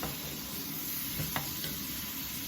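Butternut squash and pork sausage stirred in a frying pan, a steady close sizzle with soft scraping of the utensil and a couple of brief clinks.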